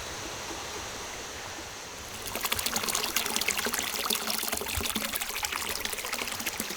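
Flowing water of a stream in Fukushima, Japan rushes and splashes steadily, starting softer and then swelling louder after a couple of seconds, with no talking.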